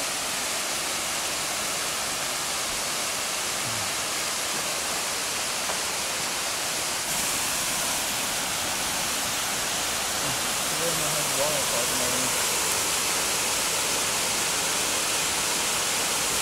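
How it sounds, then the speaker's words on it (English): Steady broadband rushing of falling water fills the scene, constant and enveloping, like a nearby waterfall in the woods, with faint voices briefly in the background. "That was a pretty cool waterfall tucked in the forest there"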